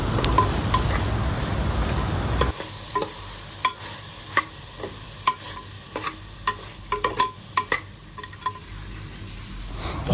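Capsicum and tomato pieces fry in a pan, a soft sizzle under a run of sharp, irregular clicks and scrapes of a spatula stirring against the metal.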